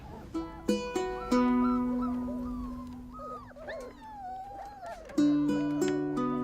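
Stray dogs at a shelter whine and whimper in high, wavering cries, with a few short barks mixed in, fairly close with no talking.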